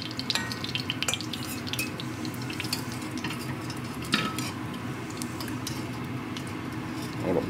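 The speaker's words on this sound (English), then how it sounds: "And you can go ahead and get some of the grease out of here." A metal spoon scrapes and clinks in a pan of stewed country style beef ribs with garlic as grease is spooned out, over a low sizzle with occasional sharp taps.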